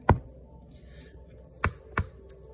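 Three sharp knife or spatula thuds of cutting a German chocolate red velvet cake sound close and quiet, one at the start and two near the end, with soft scraping between.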